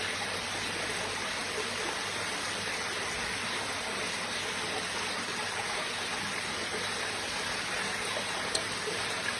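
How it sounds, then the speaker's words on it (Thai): Water from Tap Khai waterfall rushes steadily, a dense, even wash of flowing stream noise that stays constant throughout, with no talk over it. "น้ำตกตับไข่น้ำเริ่มขึ้นแล้ว"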